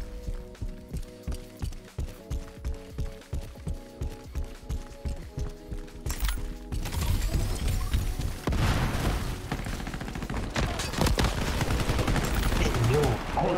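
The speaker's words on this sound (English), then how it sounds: "the SMG is so fast" A submachine gun firing very rapidly in a first-person shooter game, a fast, steady stream of sharp shots over several seconds, then denser, noisier gunfire and action sounds, with players talking now and then.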